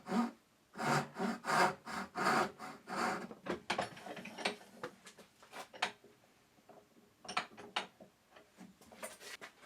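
A hand saw cuts the shoulders off a wooden hinge piece held in a vise for a hinged box. It is heard as a run of rhythmic rasping strokes that grow shorter and more uneven toward the end.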